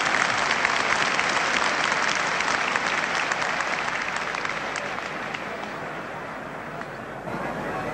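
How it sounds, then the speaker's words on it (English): A crowd at the 1973 Ireland versus New Zealand All Blacks rugby union test match applauds in a dense, sustained wash of clapping that eases off slightly toward the end. "It's great to hear appreciation of a crowd"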